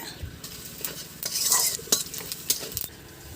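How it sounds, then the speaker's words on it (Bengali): Bay leaf and whole cumin hitting very hot oil, a close crackling sizzle that flares in the middle, punctuated by several quick spatula stirs and metal clinks against the pan, with no talk. "তেলটা তো এমনি খুবই তেতে আছে, তো এর মধ্যে এবার দিয়ে দেবো তেজপাতা, দিয়ে দেবো গোটা জিরে"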